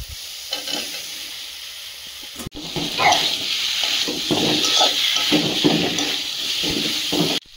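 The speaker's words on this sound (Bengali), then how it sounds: "মশলা থেকে তেল ছেড়েছে, এবারে আলুটা দিয়ে দেবো" Potatoes tipped into spiced oil in a pan and stirred, starting with a sharp clatter and then a loud, steady sizzle with scraping stir sounds running throughout.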